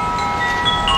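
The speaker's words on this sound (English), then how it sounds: "Probably too windy for you guys." Wind buffets the microphone in a loud, steady rush, with a faint high tone running through it.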